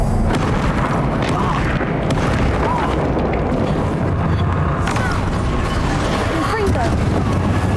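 The Bombarda spell in the Hogwarts Legacy video game sets off loud, booming explosions that roll on continuously amid game noise, with voices talking throughout.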